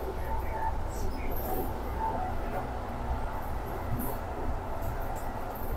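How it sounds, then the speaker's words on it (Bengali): A metro train runs through a tunnel, giving a steady low rumble and rolling roar close by inside the carriage, with faint squeaks and light voices over it. "এই যে মেট্রো রেলের টানেলের ভিতরে যেতেছে"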